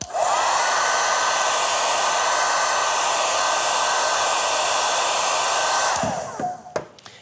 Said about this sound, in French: comme cette feuille de papier soumise au souffle du sèche-cheveux